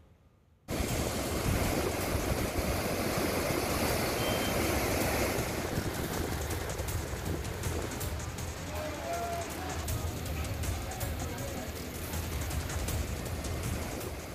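Overflowing rivers in Sawai Madhopur, Rajasthan roar as floodwater rushes across a washed-out road, a dense, continuous loud torrent that starts abruptly and holds steady throughout.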